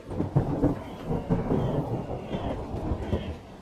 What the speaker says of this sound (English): a terrible storm raged through the land